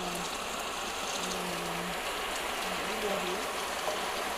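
Heavy daytime rain driven by a strong storm wind, a steady dense hiss that continues throughout while someone talks over it.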